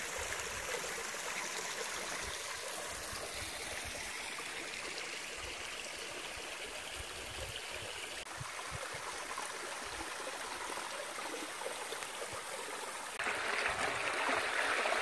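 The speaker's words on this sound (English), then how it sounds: "This water trickling down these little stone staircase here." Water trickles down small granite stone steps in a mountain stream, a steady close bubbling and splashing that runs on without a break and grows slightly louder and brighter near the end.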